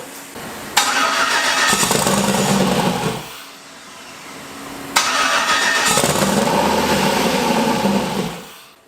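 A Ford Mustang fitted with an LS engine cranks and catches twice, loud and close, each time running briefly before cutting out, with a short quiet gap between the two attempts.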